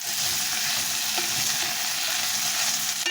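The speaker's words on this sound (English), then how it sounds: "I'm just going to mix all these up. So it's bacon and veggies." Bacon and mixed vegetables sizzle steadily in a frying pan for a hot pot, with a constant loud crackle and occasional scrapes and clinks of stirring, close by and with no voices.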